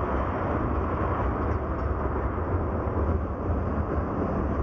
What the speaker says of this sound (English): It's kind of a short train